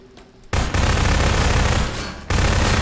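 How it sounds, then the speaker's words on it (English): Loud, close burst of sustained automatic gunfire in a Garry's Mod horror map boss fight, starting abruptly after a quiet moment and roaring continuously for about two seconds before a second burst kicks in. "He's shooting at me!"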